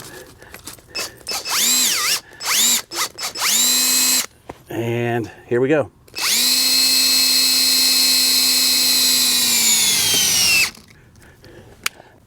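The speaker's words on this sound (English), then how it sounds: "I'm going to go ahead and put the adapter that they give you on my drill." A cordless drill fitted with an adapter cranks a Maxchock RV trailer wheel chock: several short whirring bursts of rising and falling pitch, then one long steady high drive of several seconds, loud and close, with a brief spoken phrase early on.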